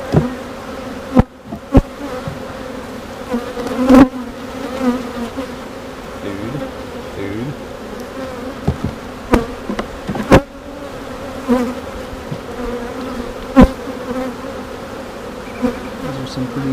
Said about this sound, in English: Those are some pretty new bees there.